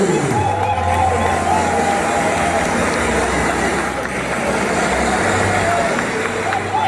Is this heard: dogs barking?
no